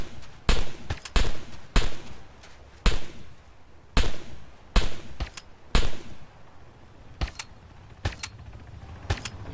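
Video game gunfire from Arma 3 aimed at vehicle tires cracks in loud, separate shots and short bursts with irregular spacing, each shot followed by a brief echoing tail.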